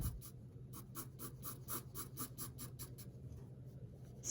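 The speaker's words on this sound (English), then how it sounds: "eventually I will start pressing more on my pencil." Pencil shading on paper during a drawing of a spherical object, a quick run of soft rhythmic scratching strokes, steady and close, then slowing toward the end.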